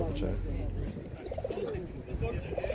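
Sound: pigeons cooing at a pigeon market

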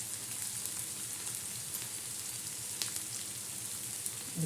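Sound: egg chutney with thecha frying in pan

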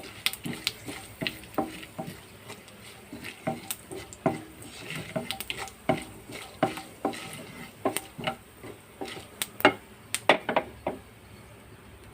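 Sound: dried red chillies tempering frying on low flame

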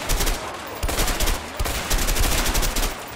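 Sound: gunfire from the video game A Way Out

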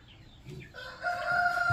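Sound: chickens, rooster crowing

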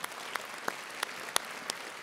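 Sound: congregation applause

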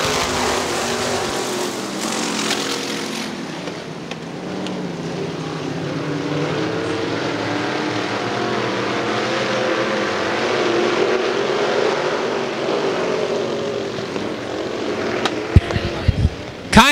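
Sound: IMCA modified race cars roaring off at the green flag

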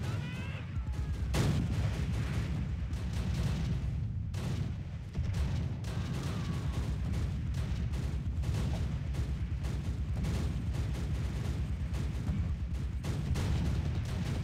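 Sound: bombing in Close Combat video game

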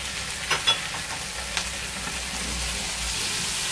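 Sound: chicken being stirred and fried in a pan for pizza samosa filling

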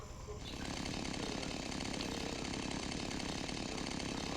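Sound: chainsaw running in a video game

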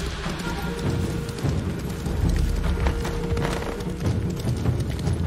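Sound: horse galloping in the video game Ghost of Tsushima

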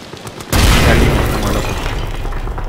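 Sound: grenade explosion in video game Amnesia The Bunker

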